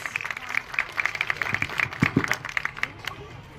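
Scattered, uneven clapping from an audience at a children's play competition held by an education society in Jalgaon, individual hand claps standing out in a loose rhythm, with speech faintly underneath.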